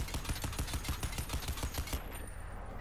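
Rapid bursts of automatic gunfire rattle in a steady stream in the video game Crysis 2, then cut off abruptly, leaving a high electronic whine.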